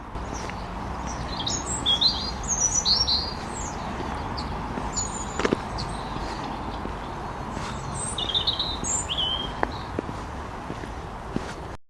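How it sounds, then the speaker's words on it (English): Birds chirp and sing in bright, scattered phrases over a soft outdoor hum on a frosty winter morning beside the Bridgwater and Taunton Canal in Somerset, with a few faint knocks or footsteps now and then. "I'm going to let you enjoy the birdsong for a minute."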